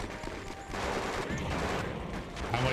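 Sustained gunfire in the video game Conflict: Desert Storm 2 during a street battle mission, a dense fusillade of rapid shots and bursts running continuously at a steady loud level, with a faint voice underneath.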